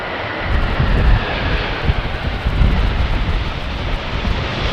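An airliner in Alitalia livery arrives on runway 18R at Amsterdam Schiphol Airport in a crosswind, its engines producing a loud, sustained roar that swells and rolls, mixed with wind buffeting on the microphone.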